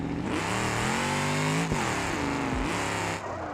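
A racing video game car spins its wheels with the engine revving hard, rising and dipping in pitch through several surges, with the rear sliding wide on loose ground; no one speaks.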